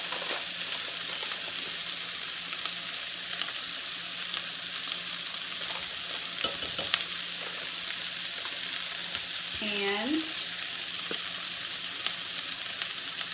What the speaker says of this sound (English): I'm going to stir it up some more.